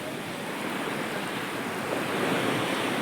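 Sea waves roll in on a beach with a steady, loud wash of surf that swells slightly near the end, roughened by wind buffeting the microphone.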